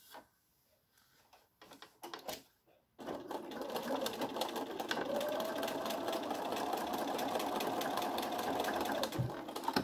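Sewing machine stitching felt for a fox ear, running steadily from about three seconds after a few soft handling clicks and short bursts, a continuous close whirring hum that stops near the end.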